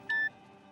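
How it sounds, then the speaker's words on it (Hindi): A single short electronic beep from a phone on speakerphone, clean and steady, followed by quiet room tone. "राधा का फोन है। इसका स्पीकर ऑन करो।"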